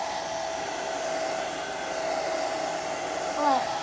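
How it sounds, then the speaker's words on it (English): A blow dryer running on its low setting while bathing a chicken gives a steady whirring hum with a faint tonal whine, constant and close, with a brief louder flutter near the end. "Now our blow dryer has an especially low setting"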